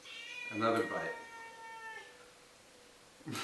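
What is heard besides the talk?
cat meowing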